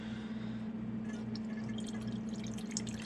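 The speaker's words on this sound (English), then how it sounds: "now I'm slowly going to add a homemade beef broth" Homemade beef broth, partly frozen, poured slowly into a pan: a steady liquid gurgle and trickle, close and moderately loud, with brighter splashy drips joining after the first second.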